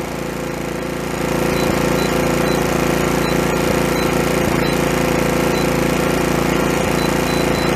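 A Fogo F4001i inverter generator idles in economy mode, its engine a steady, even drone with a low rhythmic hum that rises slightly after the first second and then holds constant, close and fairly loud with no talking.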